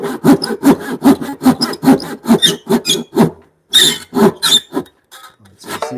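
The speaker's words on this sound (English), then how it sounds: "I should take it down to this line by cross cutting through here and just pare it away." A handsaw cross cuts through timber in a rapid, regular series of loud, close rasping strokes, about a dozen in a row, then a few slower, more uneven strokes after a brief pause.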